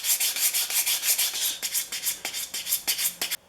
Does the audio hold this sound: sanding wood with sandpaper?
yes